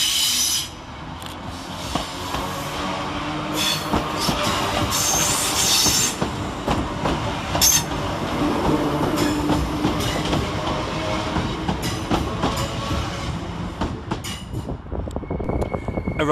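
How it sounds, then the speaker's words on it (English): Northern Rail class 769 train at Manchester Piccadilly station, a steady rumble of wheels and engine with squealing and clattering over the rails, close and loud throughout. "Next train out is 769458, working the 1038 Northern Rail service from Southport to Alderley Edge"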